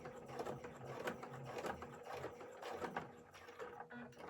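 A sewing machine backstitches over elastic on a fabric face mask, its quiet rapid mechanical stitching running steadily throughout with rhythmic ticking, close by and soft.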